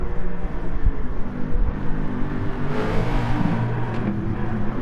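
Nissan R92CP Group C race car engine revving in Gran Turismo Sport, a loud, steady high-revving drone with rising and falling pitch and a brief swell near the middle, heard alone without voices.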